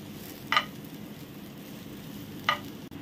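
Cut Byadgi chillies frying in a pan with a soft, steady sizzle underneath and two sharp clinks about two seconds apart, no voices.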